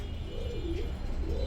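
Racing pigeons coo softly and repeatedly in a rolling, low rhythm, close by and steady against a constant background hum, with no talking.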